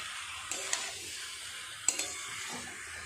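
Boiled potatoes sautéed with spice paste in a pan, a soft sizzle under two pairs of sharp spatula scrapes and taps against the metal, fairly quiet and close.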